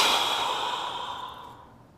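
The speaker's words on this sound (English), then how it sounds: "deep breath in" A single deep, audible breath during a mobility exercise routine, a loud close airy exhale that fades out steadily over about two seconds, with no talking.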